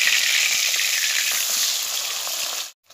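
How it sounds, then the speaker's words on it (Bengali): Japani puti fish fry in hot mustard oil in a kadai, giving a loud, dense sizzle with small crackles that holds steady before cutting off abruptly near the end. "কড়াই সরষের তেল দিয়ে আমি মাছগুলোকে ভেজে নেব"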